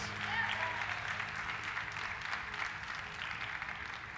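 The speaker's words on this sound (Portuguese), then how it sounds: "Você pode dar um lindo aplauso a Ele" Church congregation applauding during a worship service, a soft, even wash of clapping that sounds somewhat distant and muted, holding steady throughout with faint voices underneath.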